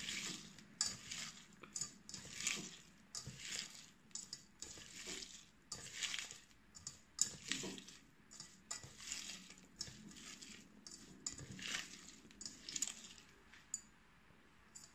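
Raw prawns being mixed firmly by hand with chilli, ginger, salt and oil for a prawn, drumstick and tomato curry, giving repeated wet squelching and light bowl clatter in an uneven rhythm, close and moderately loud, with no talk.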